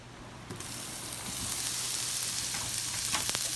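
Coral mushrooms (ramaria) fry in a pan on medium heat, a steady hissing sizzle that swells after the first second and continues crackling evenly, with no voices.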